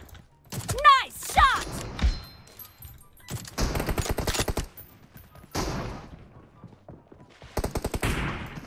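M4 rifle fire in the battle royale game PUBG rattles out in several short, sharp bursts spread across the clip, with a brief voice near the start.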